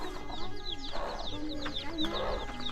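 Chickens cluck and chirp in short, repeated calls close by, with a hen sitting on eggs, faint background movement and ambient farmyard noise.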